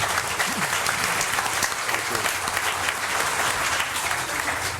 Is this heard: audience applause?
yes